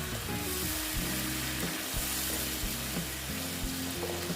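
Water is poured into a hot pan of mouri potol (pointed gourd with fennel), sending up a loud, steady sizzle and hiss that fills the clip, with low tonal hum and clinks beneath and no talking.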